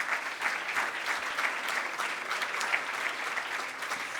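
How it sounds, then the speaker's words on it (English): Sustained applause from an audience at the 2026 Niagara Business Achievement Awards ceremony, a dense, steady wash of many hands clapping at moderate distance with no voices over it. "So round of applause to you for making it happen."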